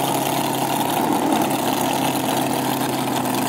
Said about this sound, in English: Second gear, hold the button. Good burnout, perfect burnout.